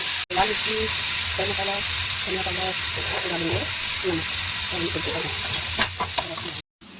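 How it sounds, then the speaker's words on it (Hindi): Onion and tomato fry steadily in a pan for a gravy, a dense continuous sizzle with stirring, while muffled voices talk underneath; it cuts out briefly near the end. "ये प्याज टमाटर ग्रेवी के लिए मैंने डाल दिया है।"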